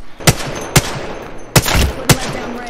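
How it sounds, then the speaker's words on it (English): Four loud, separate gunshots ring out in Apex Legends, spaced unevenly over a few seconds in a battle royale fight, close and punchy over low background noise. "They're trying to shoot me with a sniper right now."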